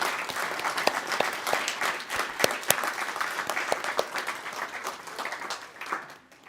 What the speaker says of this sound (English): Let's give a round of applause to all the elementary students here who are making history in the room